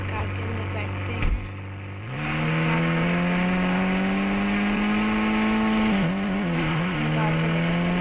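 Synthetic car engine from the Indian Bike Car Driving 3D mobile game revs up from idle into a rising, sustained whine that dips and recovers with gear-like shifts, with a short sharp click early and speech in between.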